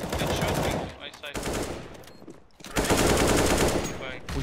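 Dense bursts of rapid automatic gunfire from the video game CS:GO, loud and close, in two long volleys separated by a brief lull.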